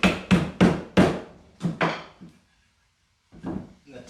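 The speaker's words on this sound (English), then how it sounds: "let's try to do a dry fit of one of the tenons here and see how it's going to look" Wooden tenon being dry fitted into a mortise for a farmhouse cooler table: a quick run of sharp, close wooden knocks, a short silent pause, then two more knocks.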